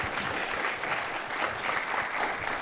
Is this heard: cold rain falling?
no